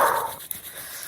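A dog whimpers in a high, thin whine that fades out within a fraction of a second, leaving steady background hiss, close and fairly loud with no speech.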